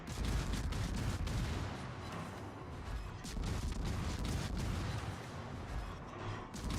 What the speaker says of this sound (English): You just go full machine gun mode